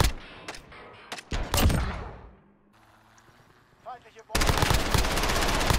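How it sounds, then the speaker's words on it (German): Rapid automatic gunfire and sharp shots from the video game Call of Duty: Modern Warfare in a Search and Destroy match, loud bursts at the start and a dense sustained volley at the end, with a quieter gap between. "das tut mir echt leid, dass ich diesen scheiß Revolver die ganze Zeit benutzen musste"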